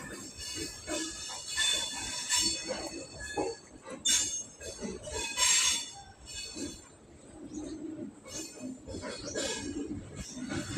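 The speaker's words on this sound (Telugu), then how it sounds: "తింటప్పటి నుంచి మాకు ఒకటే శబ్దమే ట్రైన్ శబ్దం" Trains rumble past close to a railway station where track repair work is underway, with clanking, squealing wheels and bursts of bright metallic screech rising and falling over a loud, continuous roar.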